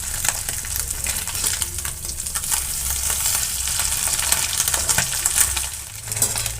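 Oil crackles and sizzles steadily as small puti fish fry in a pan, with scattered pops over a continuous frying hiss.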